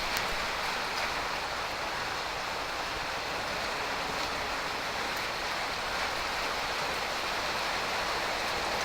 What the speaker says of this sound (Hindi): लगातार ही बारिश हो रही है।